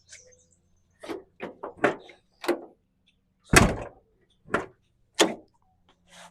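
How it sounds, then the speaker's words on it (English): A run of car door thuds and latch clunks during a walk around a project car, several separate bangs over about six seconds, one heavier slam in the middle, with quiet gaps between and no talking. "Doors shut decent."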